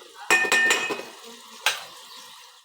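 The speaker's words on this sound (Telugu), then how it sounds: "కొద్దిగా రెడ్ చిల్లీ సాస్ వేసుకోవాలి వేసి ఒకసారి ఇలా కలపాలి" A metal spatula stirs red chilli sauce into chilli idly in a pan: several sharp clanks and scrapes in quick succession, then one more strike, each trailing into a light sizzle close by, with no voices.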